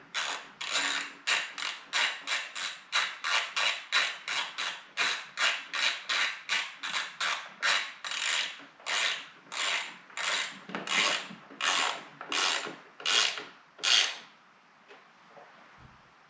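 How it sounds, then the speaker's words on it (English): A hand ratchet clicks through about two dozen steady, even strokes while snugging the cover bolts on a 2002 Honda Metropolitan scooter, close and crisp, slowing slightly before it stops, with no talking. "I'm gonna go ahead and tighten these up."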